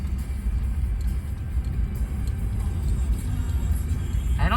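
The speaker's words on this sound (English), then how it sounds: "I don't think I've ever driven my car down in like a wash like this" A car drives down a dry sandy creek wash at Red Rock Canyon State Park in California, giving a loud steady low rumble of engine and tires over rough ground, heard from inside the cabin.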